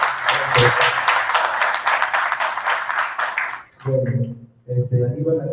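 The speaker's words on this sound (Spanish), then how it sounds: "Aplausos para Aníbal, por favor, esa presentación." Audience applause for Aníbal after his opening statement at a debate, a burst of many hands clapping close and loud for several seconds, fading out before a voice speaks.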